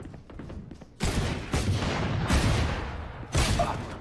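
Rapid rifle gunfire from the Vandal in Valorant, loud close bursts starting abruptly after a quiet lead-in, with a second burst near the end and a dense crackling tail between.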